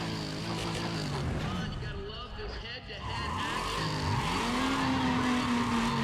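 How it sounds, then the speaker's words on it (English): Mazda RX-7 engine in the racing game Need for Speed ProStreet, a steady high-pitched rotary drone that rises through the gears with a swooping pitch change near the end, loud and continuous under a person talking. "I love how good the RX-7 sounds in this game too"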